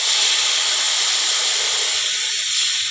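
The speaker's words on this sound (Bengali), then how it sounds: "জল দিয়ে দেবো পরিমাণ মতো।" Water poured into a hot pan of rice fried with spices and cumin for a vegetarian chal potol dish makes a loud, continuous steam hiss that holds steady throughout.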